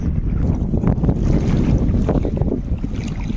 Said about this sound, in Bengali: এই জাহাজটা চলে যাচ্ছে বাংলাদেশের দিকে